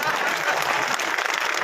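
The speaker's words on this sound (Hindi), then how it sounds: "मंच के लिए एक बार जोरदार तालियां" A crowd claps loudly at a farmers' political rally, with a dense, continuous burst of applause across the whole stretch and a voice talking over the clapping.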